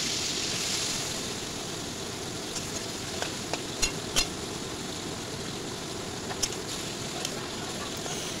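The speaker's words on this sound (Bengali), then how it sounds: "এবার চিংড়ি মাছগুলো ভেজে নিলাম" Prawns frying in a pan: a continuous broad hiss of hot oil throughout, with a few short sharp pops and taps from the pan standing out.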